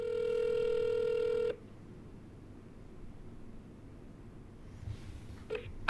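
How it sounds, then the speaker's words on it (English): A telephone handset tone sounds steadily and loudly for about a second and a half, then cuts off, followed by a quiet line hiss and one short final tone near the end. "let's give him a call, see if we can touch base with him"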